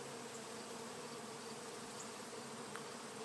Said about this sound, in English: A lot of bees flying in and out today.